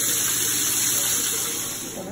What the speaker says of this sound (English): I'm going to shake it up and fry it.